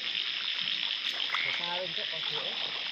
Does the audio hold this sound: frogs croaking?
yes